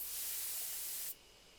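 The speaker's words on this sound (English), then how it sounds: "Take careful aim and spray the drug" A steady, close spray hisses continuously for about a second as pesticide is aimed at a beehive in the video game Death Mark, then cuts off abruptly, leaving faint background hum.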